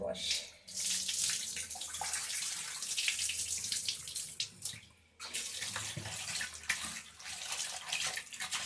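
Mutton washed under running water in a sink: a steady close rush of tap water with splashing and sloshing as the meat is handled, broken by a brief pause midway before the flow resumes.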